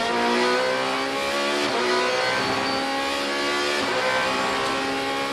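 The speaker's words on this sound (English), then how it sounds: "Down into the braking area, very heavy braking, into the tight and twisty technical section." Ferrari 458 GT2 and other GT race cars on the Slovakiaring circuit, their engines holding a loud, continuous high whine that shifts in pitch as they brake and pull away, with no talking over it.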